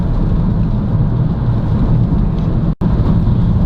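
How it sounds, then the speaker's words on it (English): Constant wind and road roar fills the cabin of a BMW 3 Series F30 at speed, a loud, steady low rumble with one brief dropout near the end and no voices. "The wind noise, road noise, is pretty intrusive in this car."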